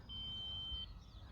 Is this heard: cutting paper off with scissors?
no